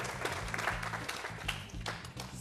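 Steady applause from a crowd honoring trophies at an agropastoral youth event, dense clapping continuing throughout over a low rumbling background.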